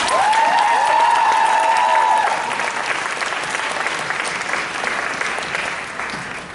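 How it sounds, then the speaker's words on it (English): A large convention crowd applauds and cheers at a Supernatural fan event in Cleveland, loud sustained clapping with whoops, and a voice rising early on before the applause slowly fades. "Please give yourselves a round of applause."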